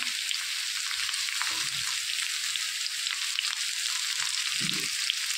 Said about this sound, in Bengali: আলু আর পেঁয়াজ হালকা করে ভেজে নিয়েছি